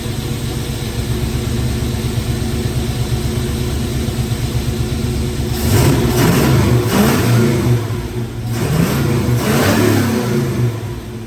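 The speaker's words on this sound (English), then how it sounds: "I advanced the timing a little bit more. That's why you heard it rev up" Chevy C20 engine with freshly advanced timing idling, then revving up loudly twice in quick bursts before settling, close by with no talking.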